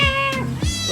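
A pet cat lets out a loud, close, drawn-out meow with a bending pitch, heard on its own without talk.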